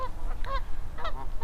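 Geese honk repeatedly at a riverside spot where turtles line up on logs, several harmonic calls in irregular bursts at moderate distance over a steady low outdoor rumble.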